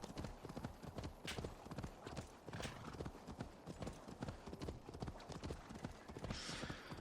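A horse gallops hard in Assassin's Creed Valhalla, its hooves drumming in a fast continuous rhythm up close, with occasional brief louder bursts breaking through the pounding.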